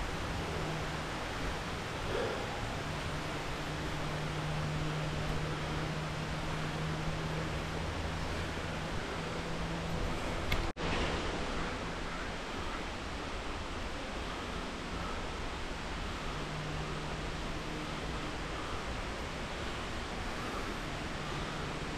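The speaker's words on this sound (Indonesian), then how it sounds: "Nih ada air terjun guys." At the Taman Eco Rimba Kanching waterfall, water rushes in a dense, steady roar with a single sharp click midway and no voices.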